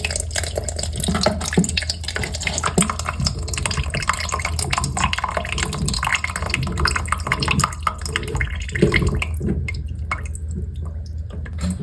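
Water spills steadily from an opened multi-turn shut-off valve into a bucket, a continuous close trickle and splash with scattered drips, loud throughout and thinning slightly near the end, with no voices.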